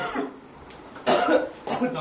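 Two short, harsh coughs burst out over quiet room noise, each a sudden broadband hit separated by a brief pause.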